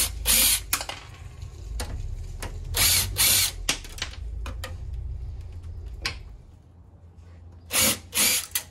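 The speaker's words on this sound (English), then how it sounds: "So then we have an impact driver." An impact driver removing screws during a computer teardown, with repeated loud, close ratcheting whirs in short bursts separated by brief pauses.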